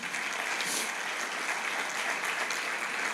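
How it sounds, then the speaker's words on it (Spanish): Church congregation applauding during a Spanish-language sermon, a dense, continuous wash of many hands clapping at a moderate, even level without pause. "¿Le puedes dar un fuerte aplauso al Señor Jesús?"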